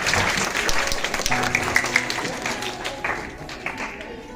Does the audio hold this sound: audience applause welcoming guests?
yes